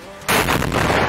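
A training demining charge goes off at a practice range as one sudden, loud, close blast, followed by a heavy rumbling wash of noise that fills the rest of the moment.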